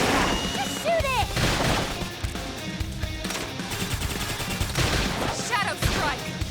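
Rapid gunfire and blasts in the sci-fi video game Xenoblade Chronicles X, dense continuous bursts mixed with game effects and music, loud throughout.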